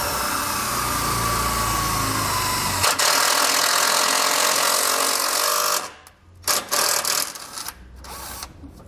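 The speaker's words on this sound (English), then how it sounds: "I'm just going to drill a hole and get the screw to go into the side of the frame rail here." A power drill bores a hole into the side of a steel frame rail on a 2016 Cadillac, loud, close and continuous for several seconds, then cutting out in short stop-start bursts.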